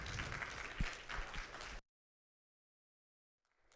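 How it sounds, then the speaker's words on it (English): Audience applause at a TEDx ElmPark 2025 talk as an award recipient is welcomed to the stage: dense, steady clapping for almost two seconds, then an abrupt cut to silence. "Let's give him a round of applause and a very warm welcome to the stage."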